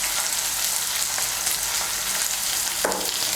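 Ginger paste stirred into a fish curry for lata fish with potatoes, a steady loud sizzle of hot frying with stirring scrapes and a brief sharper hiss near the end, no talk.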